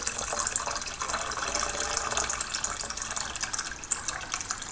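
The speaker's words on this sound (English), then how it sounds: "So I'm just pouring it gently." Water poured gently into a small fish tank for a betta, a continuous trickling splash with bubbly fluctuations, close and moderately loud, no speech.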